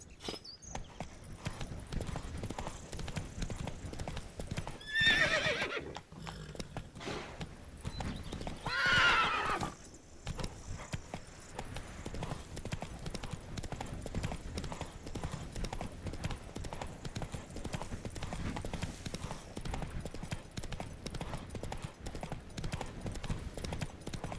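Hooves of Roach, a horse in The Witcher 3: Blood and Wine, clip-clop in a steady galloping rhythm throughout, with two loud whinnies near the start over a constant low rumble.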